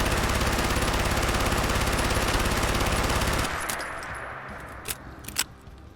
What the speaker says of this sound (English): So let's start with this Deathclaw on the left with the basic version of the PPSh.